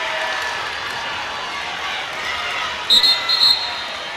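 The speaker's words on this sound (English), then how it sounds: "Listen at this Rockville crowd on their feet." Rockvale home crowd cheering and making noise on their feet at a boys' district tournament prep basketball game, a steady roar with a commentator talking over it and brief sharp shoe squeaks near the end.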